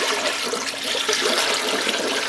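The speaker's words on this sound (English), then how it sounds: "First thing we're going to do is we're just going to start flushing out whatever product is left" Water rushes steadily through the hopper of a commercial frozen yogurt machine during cleaning, a continuous close hissing gush with no talk over it.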